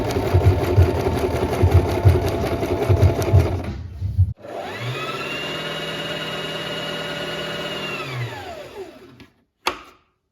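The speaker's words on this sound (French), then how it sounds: "on va faire de la surpiqûre sur le quadrillage avec ma machine à coudre classique" A classic home sewing machine topstitching fluid fabric along a grid: rapid rhythmic stitching up close, then a pause and a smooth whirring run that winds up and down, ending with a brief click.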